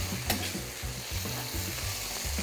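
Garlic frying in a pan for spaghetti with tuna crackles and sizzles steadily, with rhythmic low scraping strokes of stirring repeating about every half second, close by and with no speech.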